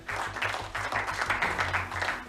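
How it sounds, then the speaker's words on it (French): A cooking-contest audience claps loudly and continuously in a dense, close burst of applause, with faint voices beneath. "Quand est-ce qu'ils vont arrêter d'applaudir, hein, quoi?"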